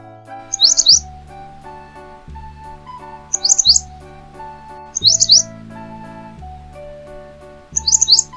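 Short bursts of bulbul chirping repeat four times at regular intervals over a steady musical backing, probably a recorded or synthesized call.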